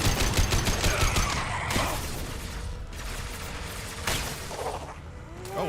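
Heavy weapon fire in Mass Effect 2, a dense barrage of booming gunfire and blasts running throughout, loud and close, with a few sharp bursts standing out near the end.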